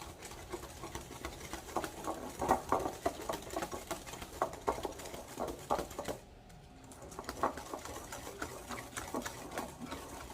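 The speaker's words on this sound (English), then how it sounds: "I'm going to whisk until I don't hear any more sugar" A hand whisk beats eggs with white and brown sugar in a bowl for bread pudding, giving a steady, fast rhythmic scraping and tapping that drops away briefly and then resumes, close and moderately loud, with no talking.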